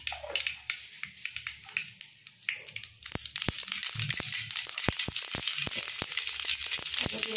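Mustard oil sizzles and crackles in a pan while chickpea greens (chana saag) cook in a home kitchen in Odisha, a steady close hiss broken by sharp pops and spits that grow denser and louder in the second half.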